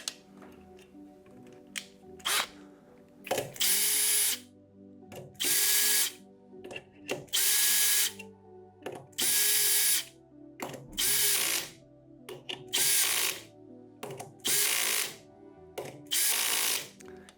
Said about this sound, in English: And then I'm going to start screwing this down.